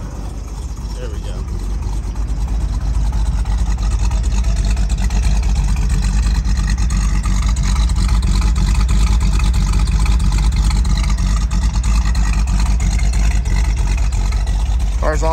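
A 1968 Shelby GT 350 Convertible engine drones steadily throughout, loud and unchanging, idling or cruising nearby with a constant low rumble.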